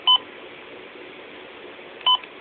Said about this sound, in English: Button beeps.